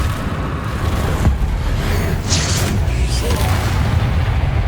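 A Bombarda blasting spell going off during combat in Hogwarts Legacy, a loud booming burst amid continuous game rumble and effects, with spoken spell calls over it.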